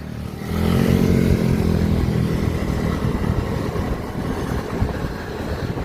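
Two petrol scooters, a TVS Ntorq and a Suzuki Access 125, launch in a drag race, their engines rising into a loud, sustained roar after a brief quiet start and holding steady to the end, with no talking.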